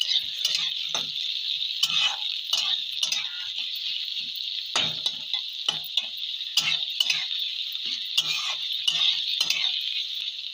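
Chopped onions fry in hot oil with a bright, constant hiss, while a spoon stirs and scrapes them in irregular knocks and clinks. No one speaks.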